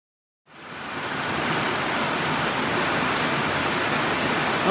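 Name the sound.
heavy rain falling outside a trail shelter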